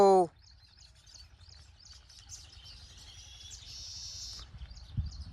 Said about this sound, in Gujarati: જો સકલા બોલે છે અહીંયા